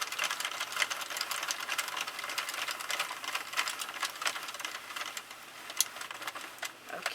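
A Sentro knitting machine works a panel in Bernat Forever Fleece yarn, giving a steady rapid clatter of plastic needles and clicks that runs throughout at close range with no voices.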